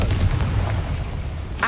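A Confringo spell blast from the Hogwarts Legacy video game on PS5, a short booming burst with a dull low rumble, followed by a brief brighter crackle at the end.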